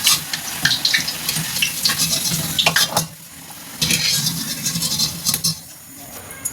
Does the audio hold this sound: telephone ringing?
no